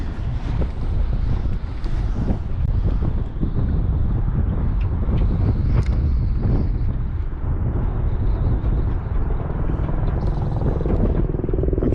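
Strong wind roars continuously across the microphone while fishing at Oak Harbor, Jacksonville, a heavy buffeting rumble with faint water sounds beneath, no talking.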